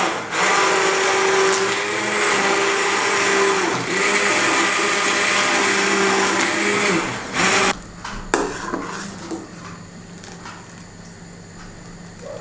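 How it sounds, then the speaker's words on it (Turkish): A loud blender purees soup steadily for several seconds, then cuts off, leaving quieter kitchen clatter and faint rustling. "çorbama bir su bardağı tavuk suyu ekleyeceğim. Çünkü bayağı koyu geldi ve blenderdan geçireceğim."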